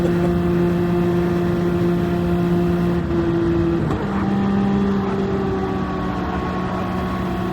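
Several Toyota GS050 race cars racing in a video game, a steady engine drone with sustained tones shifting in pitch as the cars run close together in the slipstream, loud and continuous throughout.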